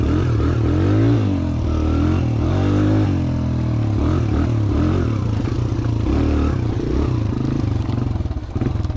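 Suzuki DR-Z125 dirt bike ridden off-trail over rough terrain, its small single-cylinder engine droning loud and close with rising and falling revs, plus clatter and scraping from the bumpy ground.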